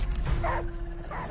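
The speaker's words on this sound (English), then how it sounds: "Oh, the dog." A dog in the 2022 film Prey lets out a short yelping bark, brief and mid-distance, over a low rumbling film soundtrack.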